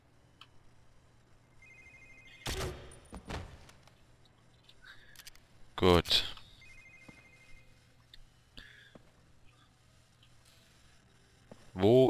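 Telephone ringing inside the James Bond Quantum of Solace video game, heard as several short bursts of ring tones spread through the clip over a steady low game hum, with someone speaking briefly.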